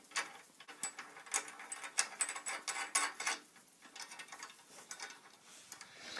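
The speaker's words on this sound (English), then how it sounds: "Put a little donut on top of the bolt here and screw it on." Nut being screwed onto a bolt on a small homemade car, producing quick, faint clicking and ratcheting ticks in irregular bursts, close-up and quiet.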